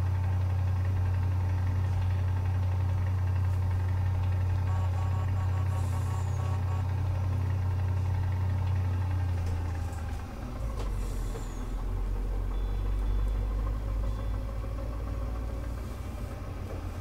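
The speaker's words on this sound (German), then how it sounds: "Bisschen Ton her vom LKW." A truck engine idles in Farming Simulator 19, a constant low rumble with a steady hum that shifts pitch slightly about two-thirds of the way through, with faint mechanical clicks on top.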